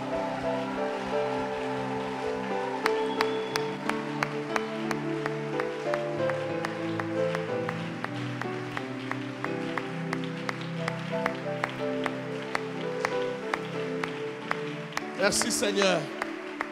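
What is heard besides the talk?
congregation applauding and acclaiming Jesus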